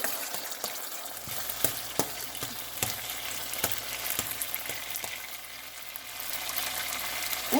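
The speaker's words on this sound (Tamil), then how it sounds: "இப்போ பாருங்க நான் இஞ்சியை போடுறேன் சின்ன சின்ன வட்டி இருக்கிற இஞ்சியை இஞ்சி போட்டு வதங்கிக்கலாம்" Ginger sautéing in a hot pan for a radish stir-fry, a steady close sizzle and crackle with scattered sharp spatula taps throughout, no voices.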